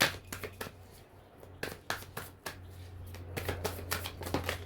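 Tarot cards cut and shuffled by hand, giving a run of crisp riffling slaps and soft card flicks with short pauses between them, close and fairly quiet over a low steady hum.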